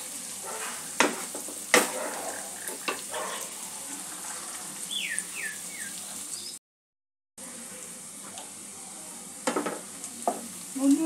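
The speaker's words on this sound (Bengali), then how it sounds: "পেঁয়াজটা একটু লালচে করে আমি ভেজে নেব" Onions fry on a medium gas flame for egg curry, a steady sizzle broken by sharp spatula clicks and scrapes against the pan, with a short silent gap partway through.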